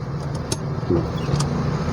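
A car sits on a hill slope as the handbrake is released, its engine giving a steady, close, low hum throughout with faint small clicks and no speech.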